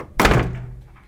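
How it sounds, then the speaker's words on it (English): A bedroom door slams once with a loud, heavy thunk that rings briefly and fades, alone with no voices. "stomps back to their bedroom and slams the door"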